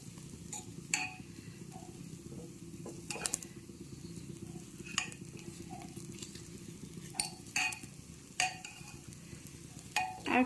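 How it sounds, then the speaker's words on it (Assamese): Veg pulao ingredients with salt fry in a pressure cooker while a spoon stirs them: a steady low sizzle runs throughout, broken by sharp scraping clicks and taps at irregular intervals. "আৰু 3 মিনিটমান মই এনেকৈ ভাজিম।"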